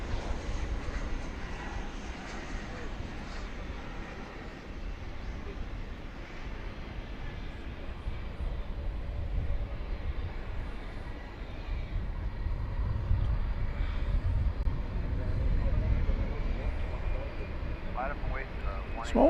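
An airplane taxis toward a runway at DFW Airport at night, a steady broad jet-engine rumble heard from a distance that swells slightly toward the end, with faint talk underneath.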